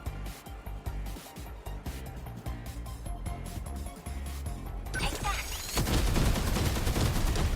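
Rapid video-game gunfire aimed at incoming missiles during a mech battle in 13 Sentinels: Aegis Rim, a steady rattling stream over droning music that swells into a louder, denser barrage near the end.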